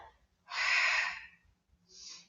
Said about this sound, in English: you'll hear that I'm breathing